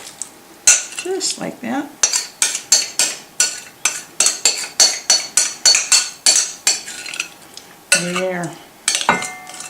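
Metal utensil scraping and clinking against a dish as hot crab dip is transferred into a casserole, a steady run of close, sharp strokes with brief talk in between.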